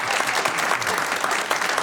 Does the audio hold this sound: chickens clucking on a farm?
no